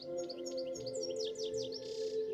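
Small birds chirp in quick, high, overlapping tweets from a copper beech tree in a backyard, faint and somewhat distant over a low steady hum, with no talking.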